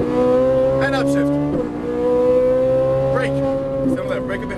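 A Ferrari 458 Italia's engine revs hard on a race track, a loud, steady tone that rises with the speed. A quick upshift drops the pitch midway before it climbs again, and a coach can be heard talking over the noise.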